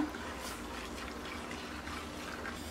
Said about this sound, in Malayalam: ഞാനിപ്പോൾ ഇതിലേക്ക് ചൂടുവെള്ളമാണ് ഒഴിച്ചേക്കുന്നത്